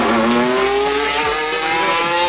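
Formula 1 race cars at the Australian Grand Prix in 2025, a loud high-pitched engine scream with rising pitch as a car accelerates past at close range, with a second car overlapping, with no talk.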